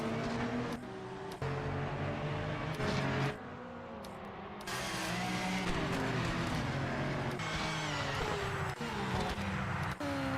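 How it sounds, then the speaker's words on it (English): Race car tyres hissing and engines roaring on a wet track in a racing video game, a continuous loud rush of spray and revving with shifting pitch throughout. "The sound of the tyres is sick"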